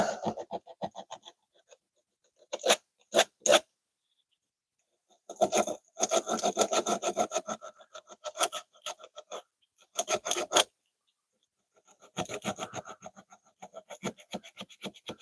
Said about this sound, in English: I've got sandpaper, so I'll use sandpaper